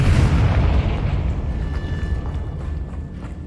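A Confringo spell explosion in the Hogwarts Legacy video game, a loud deep boom with heavy low rumble that decays slowly over a few seconds, heard alone without any voices.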